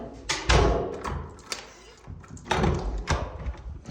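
A condo security door in a downtown Cleveland building is handled at close range, with several heavy thuds and clunks of the door and lock spread unevenly across the moment.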